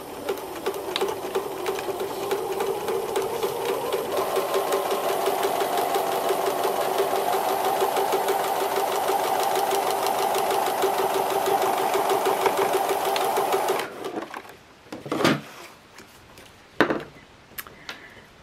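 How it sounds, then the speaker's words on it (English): Sewing machine stitching a short back stitch, a fast, even mechanical chatter that runs steadily for about fourteen seconds, then stops, followed by a few faint handling knocks. "So again, you do that little tiny back stitch."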